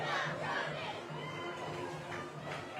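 Homecoming crowd at a high school football game between Auburn and Porta, a broad, steady roar of many voices cheering and shouting from the stands, with some chatter mixed in.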